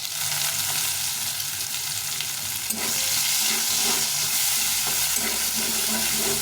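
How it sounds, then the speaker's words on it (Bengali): Onions fry in hot oil with dried red chilli, cumin seeds and a bay leaf. The sizzle is loud and steady, with stirring scrapes and a surge of hissing partway through, and no voices. "পেঁয়াজটাকে লাল লাল করে ভেজে নিতে হবে"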